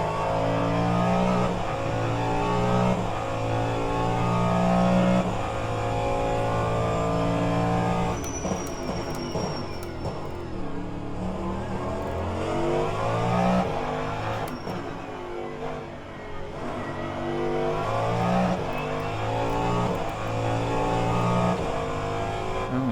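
A DPi race car engine roars at Indy in the rFactor 2 sim racing game. It drones continuously, with pitch climbing and dropping through repeated gear changes and braking zones.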